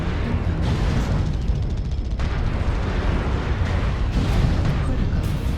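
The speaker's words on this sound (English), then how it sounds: "Warning, incoming missile." A continuous roar of missile explosions hits a mech in a video game, loud and dense, with thudding blasts merging into rumbling noise.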